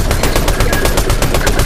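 Continuous rapid gunfire in the Fortnite Battle Royale video game: a loud, close, steady stream of shots at a fast, even rhythm with no talking over it.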